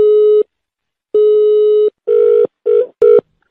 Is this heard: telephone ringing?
yes